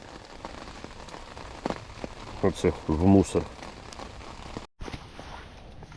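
Steady rain patters on surfaces throughout at a fishing spot by a wild pond, with someone speaking briefly over the constant hiss.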